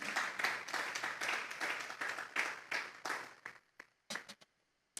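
A church congregation claps together in praise, a dense burst of many hands that thins into a few scattered claps and then stops, fairly faint and close.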